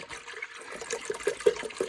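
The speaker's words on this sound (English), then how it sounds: "whoa, splashing" Liquid pours and splashes into a pot while cheese is being made at home, a short burst of gurgling glugs that gather into quick, uneven splashes at close range.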